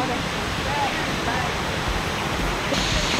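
A waterfall on Koh Samui, Thailand, roars as a dense, steady rush of falling water, loud and close throughout.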